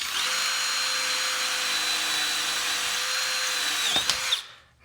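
A hand drill bores through square metal tubing held in a jig, a steady loud whining grind that ends with a few sharp knocks as the bit breaks through, then the motor winds down to silence.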